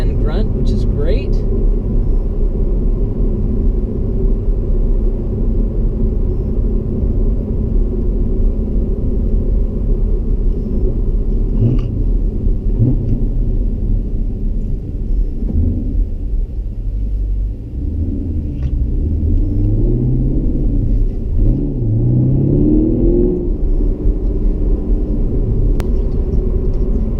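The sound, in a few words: 2016 Camaro SS 6.2 liter V8 accelerating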